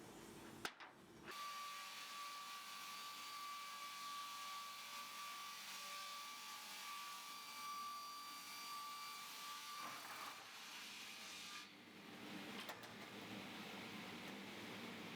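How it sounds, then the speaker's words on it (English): A parallel edger feeds stained, kiln-dried sycamore boards through with a steady mechanical roar and a thin sustained whine, broken briefly as boards pass and new ones enter. "Here we have kiln dry sycamore boards, quite stained, going through a parallel edger."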